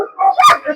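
A dog at a dog shelter gives a single short, loud bark, with a brief yelping or whining edge, close by.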